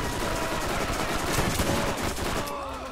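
Sustained gunfire from the Borderlands video game, dense overlapping shots and bursts running continuously at a loud, steady level with no clear voices.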